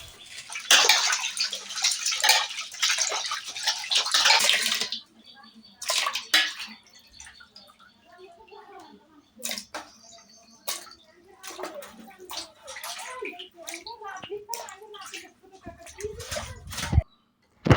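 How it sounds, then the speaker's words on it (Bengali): Cut tilapia pieces being washed in water in a rural Bengali kitchen: loud splashing and pouring at first, then softer sloshing and handling sounds while people talk nearby. "এই তো কেটে রাখা মাছগুলো ধুয়ে নিচ্ছে।"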